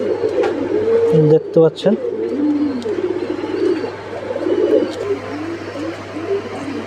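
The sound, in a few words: Mukhi pigeons cooing in a pigeon loft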